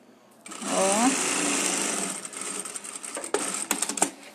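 Sewing machine running steadily through a one-centimetre finishing seam in fabric, a close continuous whirring buzz that later breaks into short stuttering bursts; a voice is briefly heard over it.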